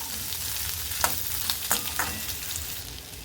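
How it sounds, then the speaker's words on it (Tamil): Onions sautéing in a pan for methi matar malai, a steady broadband sizzle close up with a few sharp stirring clacks of a spatula, no voices. "இதில் 2 பெரிய வெங்காயம் சேர்த்துக்கிறேன். வெங்காயம் வதங்கட்டும்."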